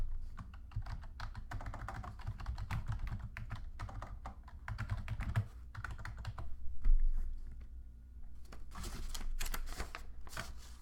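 Typing on a computer keyboard while entering a memo in accounting software, quick irregular bursts of close key clicks with short pauses between runs, alone without talk.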